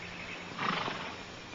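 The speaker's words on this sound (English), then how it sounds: "Beautiful horse." A horse whinnies once at middle distance, a brief rising call set against a steady outdoor hiss, with no talking over it.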